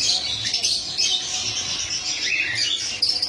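Caged Java sparrows, lovebirds and cockatiels in a bird shop keep up a dense, continuous chorus of high, overlapping chirps and tweets, fairly close and steady throughout, with no talking.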